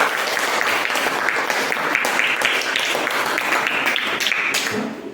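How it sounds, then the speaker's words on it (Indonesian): Classmates in a classroom clap their hands in a lively, dense burst that stays strong for several seconds before easing off at the end. "Kasih tepuk tangan dulu sama teman-teman."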